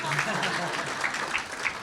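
An audience applauds after a speech in San Francisco, with continuous crowd clapping at a steady level and a voice faintly audible beneath the applause.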